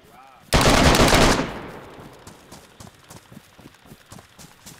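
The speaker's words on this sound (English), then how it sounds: "I just sniped two of them." A loud sniper shot from the DayZ video game bursts out close and heavy, then rolls off into a long fading tail, followed by quick rhythmic thuds like running footsteps.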